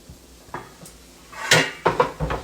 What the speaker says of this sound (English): Let me get my lid.